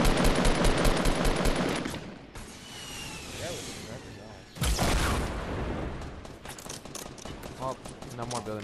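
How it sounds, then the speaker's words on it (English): Rapid automatic gunfire rattles in the video game Fortnite, loud and near in long continuous bursts broken by a brief lull, with game effects mixed in. "they shoot so fast"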